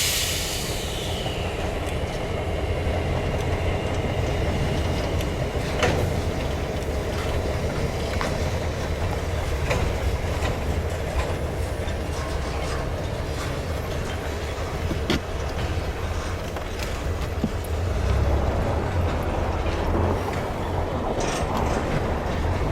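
An EJ&E SD38-2 diesel locomotive pulls out of the Weyerhaeuser plant in Waterloo, Iowa toward the main line, with a low, constant engine rumble, rolling wheel clatter and a brief squeal near the start.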